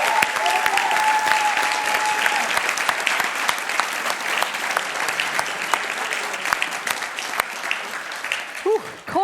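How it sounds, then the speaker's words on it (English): A large audience at a student technology competition's world finals applauds the competing teams, a loud, continuous roar of clapping with some crowd noise, tapering near the end. "Let's give them all a round of applause."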